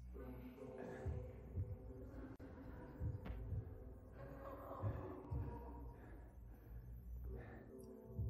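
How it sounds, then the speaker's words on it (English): A low, throbbing heartbeat plays in the video game Vampyr, a steady repeated thump under a droning ambient hum, while someone talks over it. "I can hear their heartbeat."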